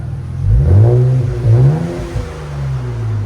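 A 2024 Nissan Z with a 3.0L twin-turbo V6 and AWE Track cat-back exhaust revs loudly and close up, rising and falling in two strong throttle blips before settling into a steady, deep idle.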